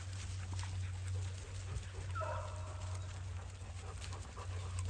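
Faint baying from a beagle drifts in from the background, a brief howling call set against steady low hum and room noise.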